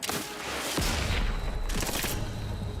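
A rapid, sustained volley of gunfire in the video game The Outer Worlds 2, dense overlapping shots with low booming thuds, loud and close with no talk.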